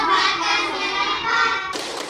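A primary school class of fourth graders claps in unison during a rhythmic class chant, steady clapping filling the room with children's voices mixed in.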